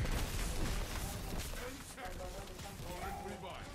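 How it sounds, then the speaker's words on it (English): Rapid gunfire in a first-person shooter video game, a dense rattle of shots running throughout at moderate level, mixed with game effects. "I'm shooting."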